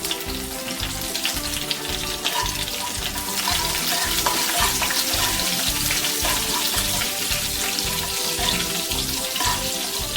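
White sesame seeds and curry leaves crackle and sizzle loudly in hot oil over a medium flame, a tempering with mustard seeds for instant handvo. The sizzle is continuous and close, with no talking.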